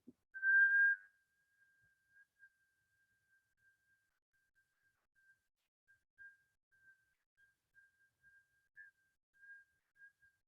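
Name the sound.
whistling exhale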